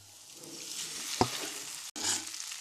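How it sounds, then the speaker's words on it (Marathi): Yippee noodles being stirred into tomato masala frying in a pan, with a steady close sizzle, a single sharp utensil tap, and a brief break in the sound near the end. "याला नूडल्सला आता चांगल्या प्रकारे मिक्स करायचं।"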